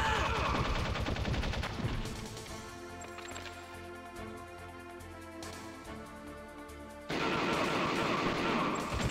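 Gunfire in Metal Gear Solid: The Twin Snakes comes as rapid bursts of close shots at the start and again near the end, with a quieter stretch of game sound in between.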